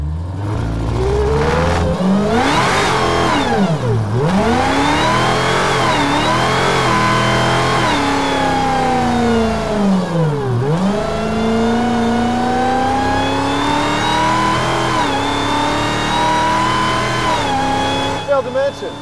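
A 1000 HP Hennessey-tuned Dodge Challenger Hellcat on 20-inch wheels revs and accelerates hard in repeated rising surges, with engine pitch climbing, dropping at shifts, then climbing again, loud and close from inside the car.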